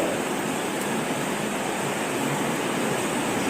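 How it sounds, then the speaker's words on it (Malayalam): Liquid solution streams steadily down a glass rod into a bottle during volumetric analysis, a continuous rushing, trickling wash of sound with no pauses. "ഗ്ലാസ് റോഡിൽ കൂടി സൊല്യൂഷൻ കുപ്പിക്കകത്തേക്ക് വീഴണം"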